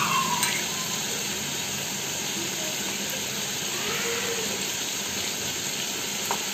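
Mustard paste with water and turmeric frying in a pan, giving a continuous close sizzle and hiss at a fairly even level, with a couple of faint clinks.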